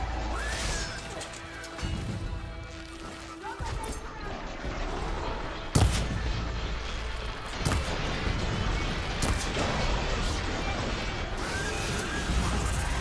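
Cannon weapon firing in the video game Horizon Forbidden West, with heavy crashing impacts and whooshes, one sharp loud blast near the middle and voices underneath.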